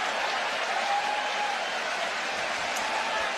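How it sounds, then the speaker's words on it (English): Baseball crowd at Wrigley Field applauding steadily throughout a long at-bat during a Brewers–Cubs game, a dense, even wash of clapping with no voices standing out. "And now the crowd at Wrigley just in appreciation of Matt Shaw and the at-bat he's putting together"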